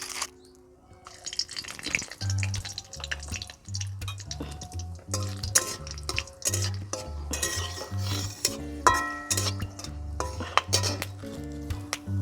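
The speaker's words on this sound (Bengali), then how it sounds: "তেজপাতা আর গোটা গরম মশলা আমি দিয়ে দেব এই তেলের মধ্যে।" Bay leaves and whole garam masala are stirred in hot oil in a metal pan, with a spoon repeatedly scraping and clinking against the pan over a soft sizzle.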